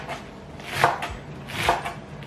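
A knife chops off the ends of a green onion on a cutting board, two crisp, close cuts about a second apart over a quiet kitchen background.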